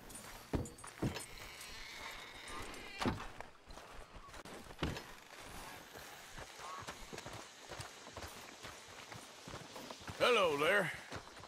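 Horse hooves clip-clop in Red Dead Redemption 2 as riders pull up to hitch, a few scattered beats under ongoing game dialogue and ambient outdoor sound, with a louder burst of activity near the end.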